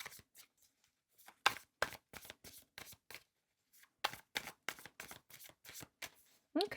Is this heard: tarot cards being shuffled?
yes